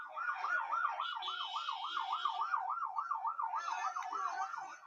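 Emergency vehicle sirens wail in a fast rising-and-falling pattern amid the aftermath of a shooting and explosion in war-torn Yemen, loud and continuous, with a second higher tone joining intermittently.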